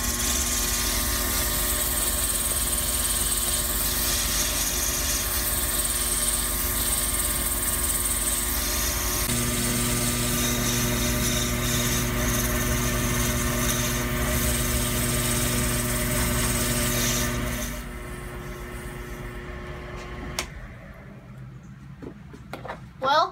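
A power sander works a fountain pen with a steady, close mechanical whine that holds for most of the clip, shifts pitch midway, then winds down into quieter handling noises and a few sharp clicks.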